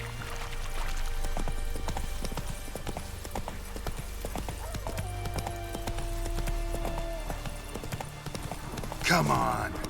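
Horse hooves clip-clopping at a steady trot in The Witcher 3, continuous and fairly close under game music and ambience, with a brief whinny-like sweep near the end.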